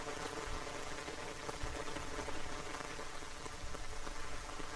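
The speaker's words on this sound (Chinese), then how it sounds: "好大雨" Heavy rain pours down on a city street at night, a dense, even hiss of drops striking surfaces that fills the whole moment without pause, with no voices.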